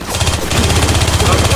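Rapid automatic gunfire from the Left 4 Dead 2 video game, loud and continuous with a steady stuttering rhythm that picks up in intensity halfway through.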